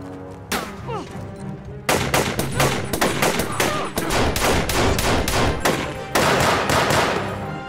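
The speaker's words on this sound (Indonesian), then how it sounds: "Dan baku tembak antar mereka pun tidak bisa lagi terelakkan." A gunfire shootout in an action film: rapid bursts of loud, close gunshots in irregular clusters, some nearly machine-gun fast, with dense thuds and echoes. Brief pauses fall between volleys, and no one speaks over it.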